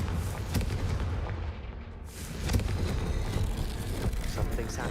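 A Confringo blasting spell in Hogwarts Legacy sets off a loud, booming explosion followed by rumbling debris and crackling game effects, sustained for several seconds.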